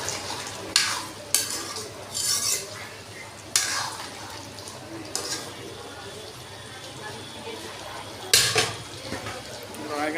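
Pieces of mutton fry with whole cumin in a pan over a steady sizzle, while a spoon scrapes and clatters against the metal in several close bursts. A voice can be heard faintly in places.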